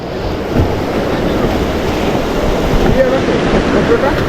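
Big waves break and surge in a continuous loud roar, mixed with gusty wind buffeting the microphone.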